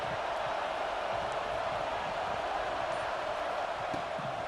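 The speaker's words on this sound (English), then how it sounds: "Listen to this crowd just shaking the girders of this place" Stadium crowd in the EA Sports College Football 26 video game roars in a steady, dense wash of cheering and noise, loud and unbroken throughout, trying to rally the defense.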